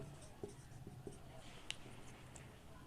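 Pen or chalk writing out maths working during a Hindi lesson on unit digits: faint scratchy strokes in short bursts with one sharper tap, quiet and close against a low background hum, with no talking.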